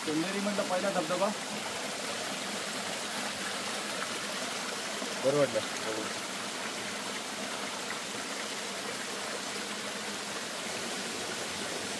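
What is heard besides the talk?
waterfall, Chanderi's first waterfall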